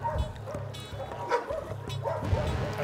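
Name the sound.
dogs barking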